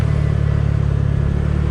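Honda Click 125 scooter fitted with an aftermarket exhaust pipe, running close by with a loud, steady, pulsing engine note for under two seconds and no voices.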